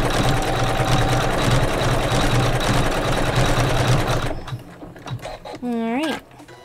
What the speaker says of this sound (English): gonna hit start and stitch my little ladybug down here that's gonna be on my little flower pot